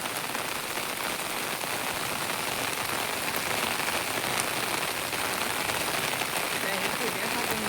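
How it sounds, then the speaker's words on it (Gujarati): Heavy rain pours steadily onto a rooftop terrace, a dense, loud, unbroken patter of drops hitting hard surfaces, with a voice faintly present beneath it. "પાણી વરસાદ જ એટલું આવે છે."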